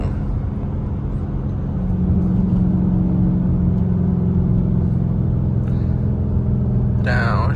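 Straight-piped Chrysler 300 engine, heard from inside the car on a curve, gives a loud, steady low rumble that swells slightly on the downshift, with a brief higher sound near the end.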